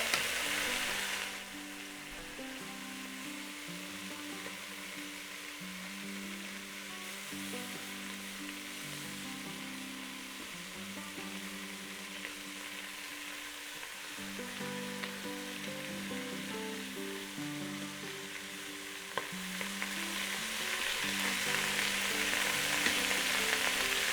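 Braciole meat rolls sauté in a pressure cooker, giving a soft, continuous sizzle with faint clinks and stirring scrapes, fairly quiet and close, swelling slightly louder near the end.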